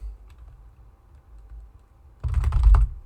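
Typing on a PC keyboard starts as soft, faint taps, then turns into a dense, loud burst of rapid clicking keystrokes near the end.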